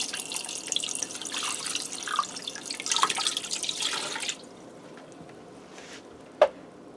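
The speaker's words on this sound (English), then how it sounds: "I'm going to start by adding in about 4 cups of water." Water runs from a tap into a Ninja Foodi pressure cooker holding a bone-in half turkey breast for soup, a steady splashing stream for about four seconds, then it cuts off, leaving quiet with a few drips and one sharp clink.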